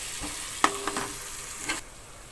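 Dry coriander powder and garam masala sauté in a hot pan for a brinjal and potato curry, giving a steady close sizzle broken by a few sharp spoon scrapes and clicks against the pan.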